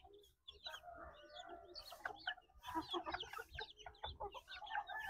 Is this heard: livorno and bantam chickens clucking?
yes